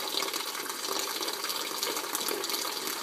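A steady stream of water runs at about 0.9 gallons per minute into a 2-gallon plastic bucket, a constant even hiss-and-splash filling sound heard close up with no talking.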